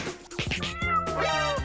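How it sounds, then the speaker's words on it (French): Sparky, the neighbours' cat, gives a close, drawn-out meow lasting under two seconds, rising then falling in a plaintive, slightly strained tone. "Oh, c'est le chat des voisins, Sparky."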